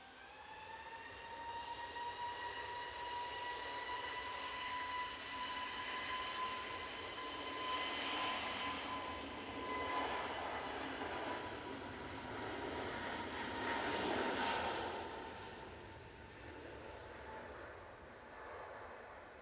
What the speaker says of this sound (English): It's the Aer Lingus coming in from Dublin.